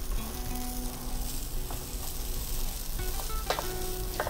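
Rice flecked with curry leaf powder sizzles in a hot pan as it is stirred, a close, continuous frying crackle with light scraping of the stirring and no voices.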